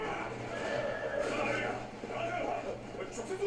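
A horse neighs in an anime episode, the whinny heard faintly under steady background sound, with people talking over it.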